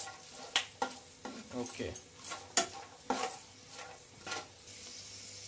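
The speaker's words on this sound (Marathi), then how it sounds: "आपल्याला जास्त फ्राय नाही करायचे, थोडक्यातच थोडेसे फ्राय करून" Peanuts and grated coconut fry in a pan with a light sizzle, and a spoon scrapes and clinks through them in bursts. A voice briefly speaks once.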